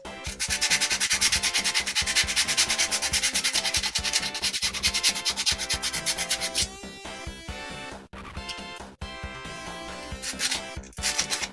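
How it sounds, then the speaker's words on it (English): Joints of a printed part being sanded by hand: rapid, rhythmic scratchy rubbing strokes, loud and close, continuous at first and then in shorter bursts with brief pauses. "Right now I'm only sanding the joints just to..."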